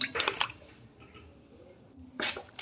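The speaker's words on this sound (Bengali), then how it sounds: "জল দিয়ে পরিষ্কার করে ধুয়ে নেব আমগুলো।" Chopped mango pieces for Bengali-style pickle are rinsed in water, with a couple of bursts of splashing and sloshing at the start and again at the end, and a quieter stretch in between.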